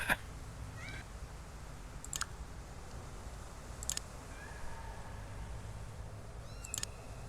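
Cartoonish kitten meows from the Sam and Max video game, several short high mews scattered across the clip over a soft, steady background music bed, fairly faint.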